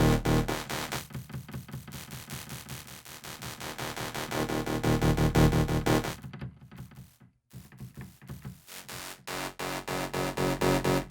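A buzzy, harsh Harmor synthesizer plays a short phrase with clipped high harmonics giving a gritty bright edge, pausing briefly partway before continuing.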